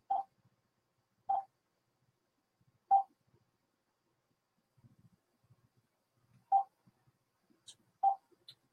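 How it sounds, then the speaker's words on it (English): Single telephone dialing tones beep one at a time with long, irregular gaps between them, clear and isolated against near silence while a call back is placed. "Let me try to call him back."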